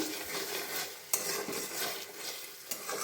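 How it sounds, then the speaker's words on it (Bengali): Jackfruit masala being stir-fried in a pan, a steady sizzle with scraping spatula strokes and occasional light metallic taps, close by with no talking. "এই দেখো এঁচড়ের মশলাটা কষাচ্ছি"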